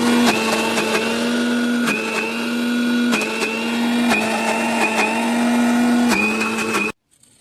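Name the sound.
mixer grinder grinding soaked urad dal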